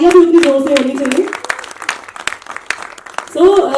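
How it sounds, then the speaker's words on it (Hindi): Applause from a crowd at a Hindi film trailer launch, a brief burst of clapping mixed with a loud voice on a microphone that speaks before and after it. "तालियां भी उतनी जोर से होनी चाहिए"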